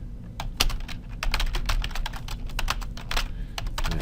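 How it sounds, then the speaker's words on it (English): Rapid, continuous typing on a computer keyboard, close and clear, with irregular clustered keystrokes and no talking. "I'm just typing random stuff in here just for fun."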